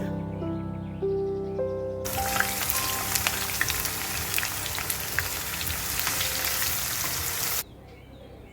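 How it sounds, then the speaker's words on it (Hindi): Chopped onions hit hot oil in a kadai and burst into a loud, dense sizzle that holds steady for several seconds before cutting off, heard up close after a quieter tonal lead-in. "जैसे ही ऑयल हीट अप होगा हम इसमें ऑनियंस ऐड करेंगे।"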